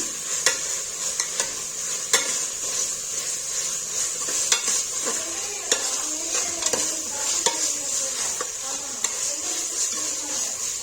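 Ginger garlic paste frying in oil in a pan toward golden brown for tomato rice, with a soft continuous sizzle under repeated sharp scrapes and taps of a spatula stirring, close up and without talking.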